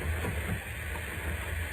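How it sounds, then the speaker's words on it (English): Steam hisses steadily as pressure builds in a radio drama sound effect, a continuous broad rushing hiss with a low rumble underneath, loud and unbroken. "The steam pressure's being increased."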